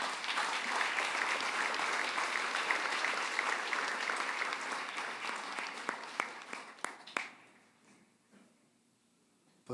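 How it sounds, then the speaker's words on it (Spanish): A church congregation claps loudly and steadily for several seconds, the applause thinning into a few scattered claps before dying away to near silence. "Regalémosle un fuerte aplauso al Señor"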